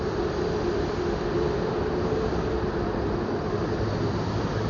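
A train rolls past at a busy Thai street crossing, a steady, dense rumble of wheels and carriage noise holding at even loudness throughout, with no voices over it.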